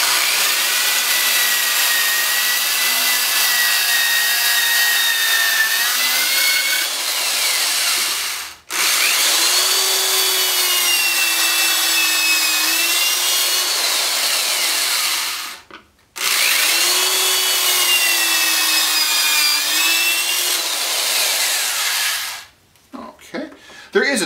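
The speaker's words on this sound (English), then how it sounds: "I'm just going to drill my pocket holes." A power drill whines through wood in three long bursts, boring pocket holes on a Kreg jig, each pitch sliding as it bores, separated by short pauses and a clatter at the end.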